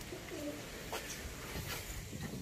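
Pigeons nesting at a farm give a few soft, low coos close by, set against a constant, fairly loud background hiss after heavy rain.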